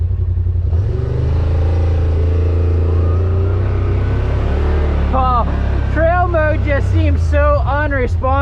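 A Yamaha Rmax 1000 side-by-side driving in trail mode and two-wheel drive, its engine droning loud and steady from inside the cab, with people talking over it through the second half.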